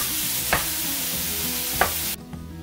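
Frozen riced cauliflower cooking in a pan, a steady broadband sizzle with two sharp stirring scrapes, then the frying noise drops abruptly to a quieter hiss near the end.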